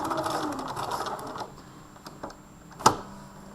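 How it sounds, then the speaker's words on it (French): Sewing machine topstitching close along the rail of a jeans zipper: a brief run of rapid mechanical stitching at the start, then quieter pauses broken by a few isolated clicks and one sharp knock near the end. "et je fais ma surpiqûre"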